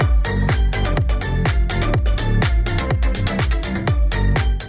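Music with heavy, booming bass and crisp beats plays through a strong audio equalizer, a loud, continuous mix of pounding low thumps and bright percussive hits.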